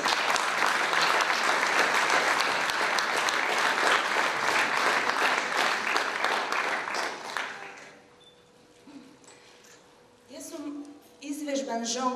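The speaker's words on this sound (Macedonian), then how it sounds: "Еден голем аплауз" Loud sustained applause from a poetry slam audience in Prilep fills the room for about eight seconds, then fades into a quieter stretch with scattered voices and a brief renewed burst near the end.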